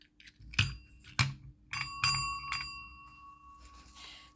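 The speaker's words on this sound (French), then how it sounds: "une petite cloche comme ça" A small table bell is struck five times in an uneven sequence, each ring bright and metallic, and the last strike sustains a long fading tone.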